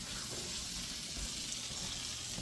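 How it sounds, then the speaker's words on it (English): Pot roast browning in butter in a cast iron pan gives a low, steady sizzle, faint and even throughout with no talking. "we're going to take the roast and we're going to put it in some butter in our cast iron pan"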